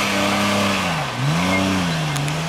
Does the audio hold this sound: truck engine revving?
yes